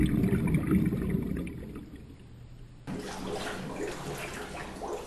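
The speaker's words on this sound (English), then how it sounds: "So she's expelling a lot of bubbles." A person underwater in a hydrostatic weighing tank breathes out a rush of bubbles, muffled gurgling that fades, then a brighter splashing wash of water, with no voices.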